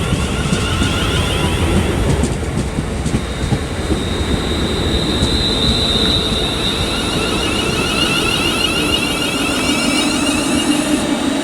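A London Northwestern Railway Class 350 electric train arrives at Birmingham International station on the West Coast Main Line, filling the scene with a loud, close rumble of wheels on rails and a faint high whine of traction motors.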